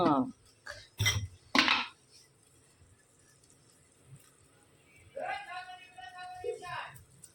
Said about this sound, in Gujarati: સરસ મજાને નાખી દીધા છે અને આપણે હલાવી નાખીએ.